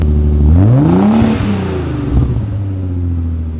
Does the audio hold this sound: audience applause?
no